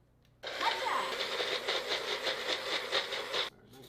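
A Magic Bullet blender whirs steadily for about three seconds as it blends garlic and nuts for pesto, fairly loud and close, starting and stopping abruptly.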